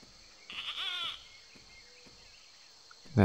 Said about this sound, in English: that odd little bird call of sorts